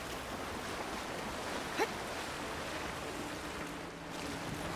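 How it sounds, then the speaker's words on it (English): Broad, steady rushing of a waterfall in the game Avowed, continuous dense noise with a brief brighter splash partway through and no talking. "We're going behind the waterfall."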